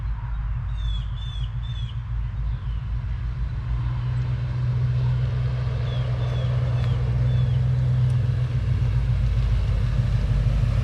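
Steady loud low engine rumble and drivetrain drone from a one-ton Ford Bronco with a rebuilt transmission, cruising at constant speed on a test drive, heard from inside the cabin, with faint chirps briefly audible over the noise.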